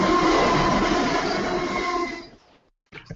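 A train roars past in a radio rail-safety announcement, a loud broad rumble that holds steady for about two seconds, then fades out abruptly, followed by a short burst of noise.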